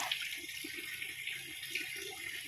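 Water drains from a concrete fish pond housing gourami, climbing perch and tilapia, a continuous gurgling rush with a faint trickling pulse, heard alone.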